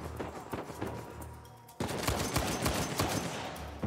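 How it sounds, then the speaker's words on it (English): Rapid automatic gunfire from the video game Uncharted 4, a dense fusillade of bursts that cuts off briefly and then resumes harder, continuous and fairly near without any voices. "Probably firing way too many bullets in one go."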